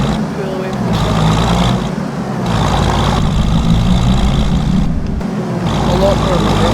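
Tractor engine in a farming video game pulling away, a steady loud low rumble with rising revs and a few brief dips, heard alone without talk.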